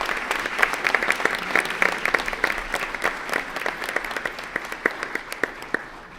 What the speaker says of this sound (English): We can have a big round of applause for our chorus students from Winter Park Elementary School.